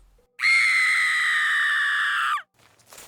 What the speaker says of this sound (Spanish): Un grito de espanto se oyó a la distancia